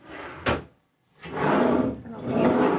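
A ship cabin drawer on a Royal Caribbean cruise ship slides and knocks, with a sharp thump followed by two longer rumbling slides, near and moderately loud.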